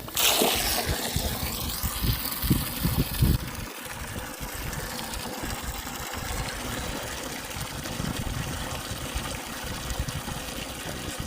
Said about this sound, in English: I accidentally splashed the cow while I was filling waters.